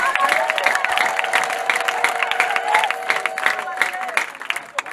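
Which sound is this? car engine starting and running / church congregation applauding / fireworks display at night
church congregation applauding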